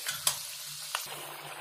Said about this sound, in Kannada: ಉದ್ದಿನ ಬೆಳೆ ಸ್ವಲ್ಪ ಫ್ರೈ ಆಗ್ಬೇಕು